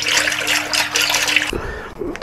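Water gushes loudly and steadily from a just-repaired pump for about a second and a half, then cuts off, leaving quieter trickling and handling noises.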